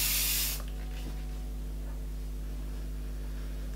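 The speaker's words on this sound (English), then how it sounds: "And then you just spray it." Hairspray from an aerosol can sprayed onto a top knot hairstyle, one loud close hiss lasting about half a second, then a quiet room with a low steady hum.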